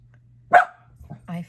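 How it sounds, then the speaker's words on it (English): A house dog lets out one sharp, close bark, followed by a couple of softer, shorter yips and a brief whine-like bark, all over a low steady hum in an otherwise quiet room. "every little noise my dog barks"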